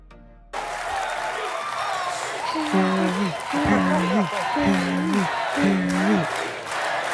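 A large crowd applauds and cheers, then breaks into a rhythmic chant of Prince Harry's name, repeated loud voiced calls in even beats over continuous clapping.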